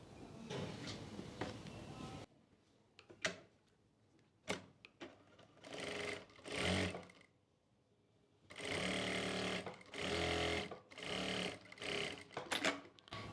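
An electric sewing machine stitches the seat seam of a pair of trousers, its needle whirring in several loud close bursts of a second or two, separated by quiet pauses.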